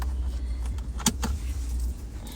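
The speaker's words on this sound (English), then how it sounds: "We're in the car today." Car interior hum while running errands, a steady low engine drone with a couple of brief clicks and a faint jingle like keys near the middle, no talking.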